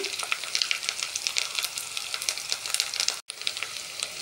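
Curry leaves with ginger-garlic paste frying in a pan of hot oil, a steady crackling sizzle with sharp pops, close and continuous.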